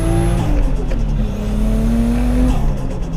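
A Toyota JZX pulls hard through first to third gear, engine revving high and loud with rising pitch, quick drops at each shift, and the tires spinning, heard close and continuous.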